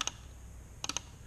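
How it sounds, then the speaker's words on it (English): A Z-Wave wall switch gives sharp, close clicks: one at the start, then a quick cluster of three clicks near the end as the paddle and relay actuate, crisp and isolated over a quiet room. "you'll be able to hear a click when I activate this switch here"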